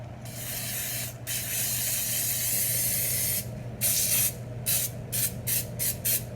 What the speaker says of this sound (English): I'm going to use some pan spray on top of my eclairs.